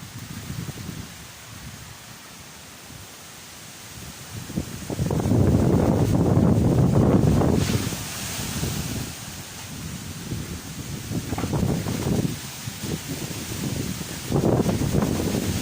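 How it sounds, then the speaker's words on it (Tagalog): Strong typhoon wind during Storm Ulysses landfall at Signal No. 3 in San Carlos City, Pangasinan, roaring in heavy gusts that swell and ease over a constant rushing background. "Lakas po ng mga hangin"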